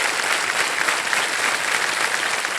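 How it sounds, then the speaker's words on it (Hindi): A quiz show studio audience breaks into loud, steady applause that fills the whole stretch without pause. "तालियां बज जाए मृण्मय जी के लिए।"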